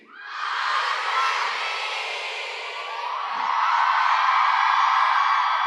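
A large audience at a Steubenville South women's conference session screams, whoops and cheers together, a loud continuous roar that holds steady and swells near the end.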